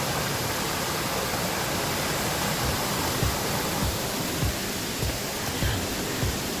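A waterfall roars as a dense, steady rush of water, loud and constant, with a few faint low thumps beneath it.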